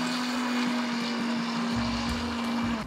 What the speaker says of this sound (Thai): เราจะปั่นรากผักชีกับน้ำมะนาวก่อนค่ะ